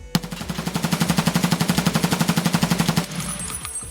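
Mutant rifle firing full-auto in Escape From Tarkov, a loud, close, rapid burst of about thirty evenly spaced shots lasting roughly three seconds, then a mechanical clatter.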